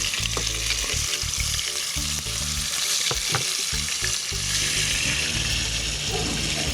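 Flying fish dredged in flour fry in a pan during a Barbados cooking demonstration, giving a loud, continuous crackling sizzle with bursts of bubbling and occasional clatter from the pan.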